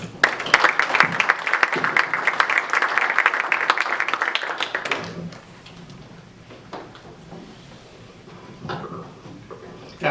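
Audience applause fills the first five seconds, a dense burst of clapping welcoming a speaker, then fades out into quiet room noise with a few scattered sounds.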